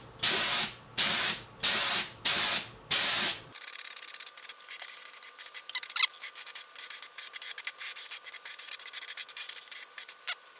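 A spray gun lays down the first coat of finish on a Kalamazoo Model Two amp cabinet in five loud, evenly spaced bursts of hiss, followed by quiet room noise with faint clicks and handling sounds.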